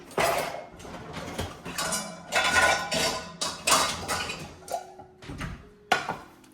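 Kitchen pots and pans clatter and clank as one is picked out, a run of uneven metallic knocks and scrapes at close range with no voices.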